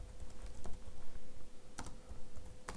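CSS code being typed on a computer keyboard produces quick, light key clicks in uneven bursts, with a few sharper strikes standing out, fairly quiet and close, with no voice over them.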